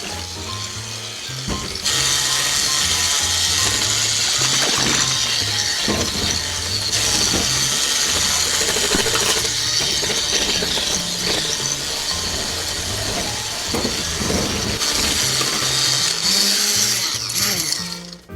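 An electric mixer beats eggs into a cake mixture for a classic British cake. A loud, steady whirring churn goes on almost nonstop, shifting slightly in intensity a few times before cutting off at the end.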